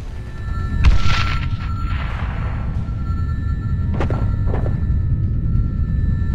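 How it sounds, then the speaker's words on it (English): A missile explodes in Sniper Ghost Warrior 2 with a loud, close boom, a rolling rumble, and a couple of sharper thuds a few seconds later. "Incoming missile!"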